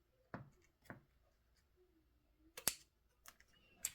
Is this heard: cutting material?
yes